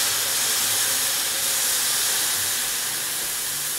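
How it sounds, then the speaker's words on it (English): White wine poured into a hot pan of spicy mushrooms, giving a loud, steady, close hiss of sizzling steam that holds unbroken through the whole stretch. "I'm actually gonna add a little bit of wine to this."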